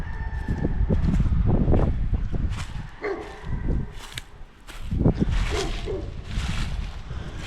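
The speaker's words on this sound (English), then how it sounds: "There's a lot of chickens." Chickens cluck and a rooster crows in a rural outdoor setting, with several calls near and far and a dog barking in the background.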